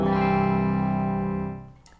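An electric guitar on a plain clean tone, played through a D-Seed delay pedal, rings out as one sustained chord that holds steady and then fades away near the end, heard alone and fairly loud.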